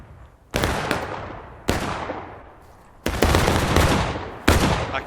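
Whitworth rifle fire in an American Civil War video game: four loud, sharp shots at irregular intervals, each followed by a long decaying echo and rumble.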